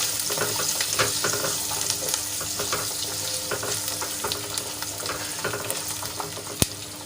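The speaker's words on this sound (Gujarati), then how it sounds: "લસણ આપણે એમાં એડ કરી લઈશું અને તેલમાં સરસ રીતે મિક્સ કરી લઈશું અને એને બે થી ત્રણ મિનિટ સુધી તેલમાં સંતળાવા દઈશું" Garlic sizzles and fries in hot oil while being stirred for a Kathiyawadi garlic curry, a steady crackling hiss with scraping stirs and one sharp clack near the end, no talking.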